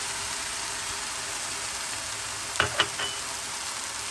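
Cubed potatoes and eggplant for a Fiji-style aloo baigan fry sizzle in a hot pan of browned oil, a soft continuous frying hiss with a couple of sharp clatters near the end as pieces drop in.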